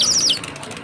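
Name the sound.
toy bird chirping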